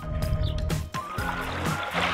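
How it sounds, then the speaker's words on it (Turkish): Sea waves wash and splash against the shore at a beach campsite, a steady close rush of water with brief surges, no voices. "Bak dalgalar ne güzel kıyıya vuruyor."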